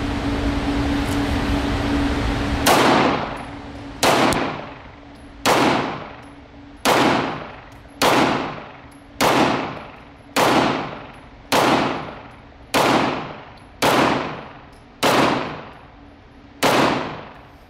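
Atlas Gunworks 2011 pistol fired in a steady string of about ten sharp, loud shots roughly 1.3 seconds apart, each with a ringing decay, after a stretch of steady background noise.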